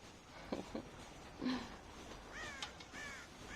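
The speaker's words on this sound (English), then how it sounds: "God damn crows!" Crows caw in the Red Dead Redemption video game, a few harsh, slightly wavering calls at a low, distant level over a soft background hiss.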